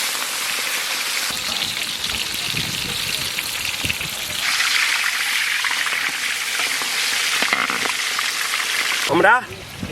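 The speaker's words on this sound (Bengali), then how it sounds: "আমরা মাছ ভেজে নেব, কড়াই চাপিয়ে দিলাম সানফ্লাওয়ার তেল।" Fish rubbed with salt and turmeric fries in sunflower oil in a wok, giving a loud, continuous close sizzle that swells midway, ending with a brief clattering stir.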